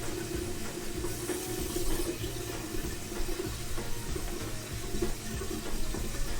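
Water running steadily from a kitchen tap into a pot for cooking gnocchi, a constant close rushing flow with slight splashing throughout.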